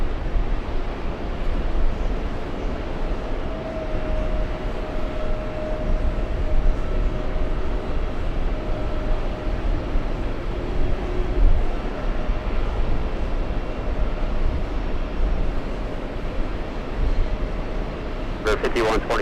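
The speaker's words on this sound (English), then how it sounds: "let's go over to the Japanese A350. Flying in from Haneda." A Japanese Airbus A350 arriving from Haneda at JFK produces a steady, broad jet roar that holds evenly throughout, with a faint murmur of voices mixed in.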